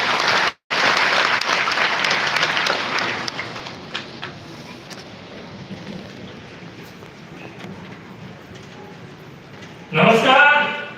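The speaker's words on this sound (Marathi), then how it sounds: "जरा जोरदार टाळ्या डॉक्टर अमित बागवे." Audience applause welcoming Dr Amit Bagwe onto a stage at a live Marathi event, a loud dense roar of clapping that cuts out abruptly, returns and fades to a softer patter, ending with a short burst of voice.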